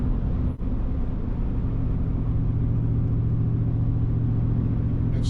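A 2023 Ford Raptor R truck engine hums with a steady, dense low rumble heard from inside the cab while driving, loud and continuous with no talking.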